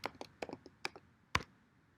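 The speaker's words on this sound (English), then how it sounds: "I'm going to type that in now" Typing an MFA ID on a computer keyboard: a short run of light, scattered key clicks with uneven gaps, closing on one firmer tap, close up and quiet.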